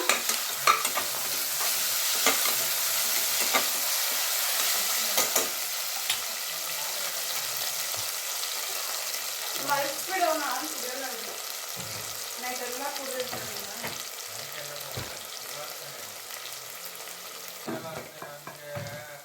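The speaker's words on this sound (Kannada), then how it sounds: "ಈಗ ಒಂದು ಪೂರ್ತಿ ಸ್ಪೂನ್ ಆಗುವಷ್ಟು ಶುಂಠಿ ಬೆಳ್ಳುಳ್ಳಿ ಪೇಸ್ಟ್ನ ಹಾಕ್ತಿದ್ದೀನಿ. ಎಣ್ಣೆಯಲ್ಲಿ ಚೆನ್ನಾಗಿ ಫ್ರೈ ಮಾಡ್ಕೊಂಡ್ಬೇಡ." Ginger garlic paste and onions fry in hot oil in a pan while being stirred, with a constant loud sizzle and scraping spoon strokes against the pan throughout.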